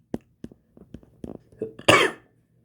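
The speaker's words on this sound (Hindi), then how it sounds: "थोड़ा खांसी हो रही थोड़ी दोस्तों" A man coughs repeatedly during a Hindi-language history lecture: a string of short, sharp coughs and throat clearings, close to the microphone, ending in one louder, harsher cough.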